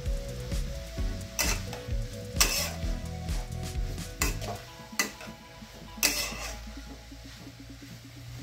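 Carrots for milk-based carrot halwa stirred with a metal spatula in a pan over a high flame: repeated scraping clinks and knocks over a soft steady sizzle, moderately close, no voices.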